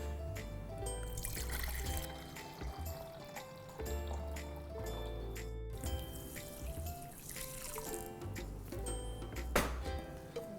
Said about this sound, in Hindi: इसमें जो हमें पानी डालना है वो 400 ml डालना है